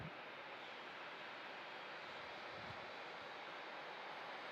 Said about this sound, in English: Hope she has a wonderful flight on this super jumbo plane, the Emirates Airbus A380 800 series, heading off to Dubai